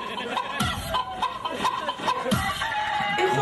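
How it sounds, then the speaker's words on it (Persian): A rooster heard in a funny clip compilation, giving short repeated clucking calls and crow-like bursts, close and fairly loud, with faint laughter around it. "این خروسه نه اون خروسه آره این خروسیه"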